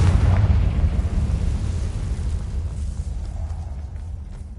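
A Confringo blasting spell explodes in Hogwarts Legacy, a loud, deep booming blast that rumbles heavily at the start, then slowly fades into a long, low, churning decay, with no voices.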